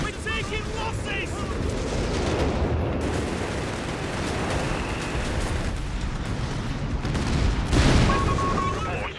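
Battle din from Company of Heroes 3 on the Forest Showdown map, with sustained gunfire and artillery blasts rolling continuously at steady loudness, a heavier burst near the end, and game voice chatter mixed in.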